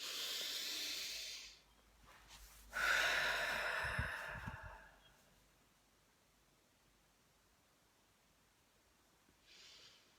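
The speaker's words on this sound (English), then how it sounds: "Deep breath." A deep breath taken close up: a long airy inhale followed by a slow hissing exhale, with a quieter breath later on, in an otherwise silent room.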